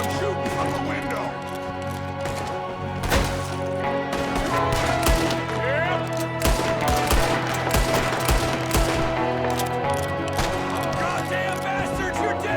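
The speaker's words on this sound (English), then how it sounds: "There's another one shooting from the window." Gunfire from a window in Red Dead Redemption 2 rattles in rapid overlapping shots, close and loud, mixed with game music and someone talking over the shooting.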